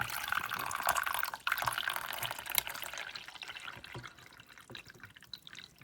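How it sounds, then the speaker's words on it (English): Water pours into the reservoir of a Hamilton Beach Scoop single-serve coffee maker, a close splashing trickle that thins and fades toward the end. "I'm gonna pour in the water up to the max fill line"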